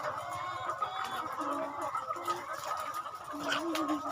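Chickens on an egg farm at feeding time, a dense flock clucking and calling continuously with occasional louder squawks, close and steady throughout.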